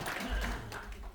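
A crowd applauds at a teachers' joint training session at Jangseung Elementary School, a brief burst of dense, steady clapping filling the room.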